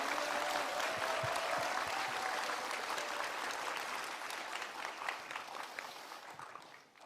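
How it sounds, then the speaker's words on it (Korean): An audience at a lecture claps in a sustained round of applause, a dense crackle of many hands heard from within the room that slowly tapers off toward the end. "박수 주십시오."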